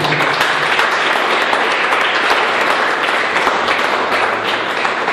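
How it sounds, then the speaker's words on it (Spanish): A church congregation at a youth service keeps up loud, continuous applause without a break. The dense clapping fills the room evenly for the whole stretch. "Démosle ese aplauso a eso."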